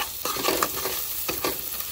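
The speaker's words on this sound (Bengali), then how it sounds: "ভালো করে মশলাগুলো নাড়াচাড়া করে" Spice paste of ginger, garlic, cumin, salt and chilli powder being stirred and fried in a pan for chicken leg biryani: steady sizzling with a few scraping stirs of the spoon, close by and with no talking.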